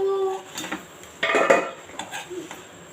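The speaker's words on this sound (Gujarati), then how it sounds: "હવે આપણે એને 2 ચમચાથી હલાવશું" Two spoons toss Hakka noodles with tomato ketchup in a pan, giving scattered metallic clinks and scrapes with a denser burst of clatter midway, close by and with no voices.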